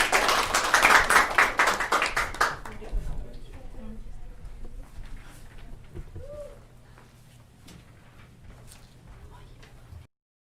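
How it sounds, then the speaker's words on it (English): Wedding guests applaud the couple at a ceremony, a dense burst of clapping in the first two and a half seconds that quickly fades to a quiet room with faint scattered taps. "please give them a round of applause."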